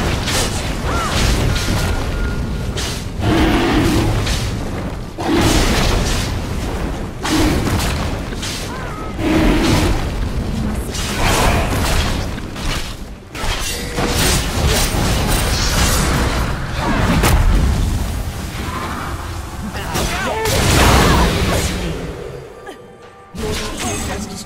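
Explosions from a turret being destroyed in a video game, a run of loud booming blasts and crashing bursts repeating across the stretch, dense and close.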